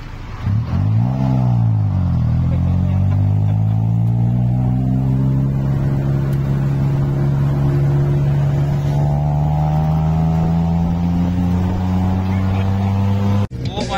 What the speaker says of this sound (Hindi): सर ये बहुत तेज चला रहे हैं टुक टुक